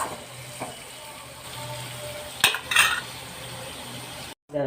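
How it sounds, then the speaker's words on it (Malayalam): Tomatoes sautéing in a pan give a soft, steady sizzle with a few scraping stirs and clinks of a spatula near the middle, fairly quiet and close. "ഇപ്പം ഞാനിത് തക്കാളി ഒന്ന് വഴറ്റിയെടുത്തിട്ടുണ്ട്"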